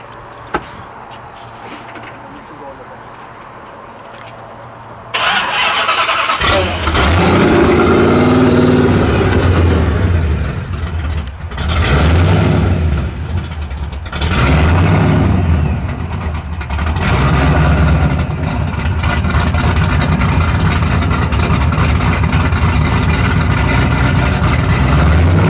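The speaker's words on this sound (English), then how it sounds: "Now Joe's going to start the car." A 1971 Dodge Demon with a 1000 horsepower engine is started after a quiet stretch, then revved in loud, deep, rising surges that fall back into a heavy rumbling idle, close by and alone.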